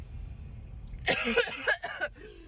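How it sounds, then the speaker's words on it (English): A person coughs and wheezes in a rough, hacking burst of several strained coughs, close and fairly faint, following a stretch of low background noise. "I'm playing up the dramatics by coughing and breathing like that"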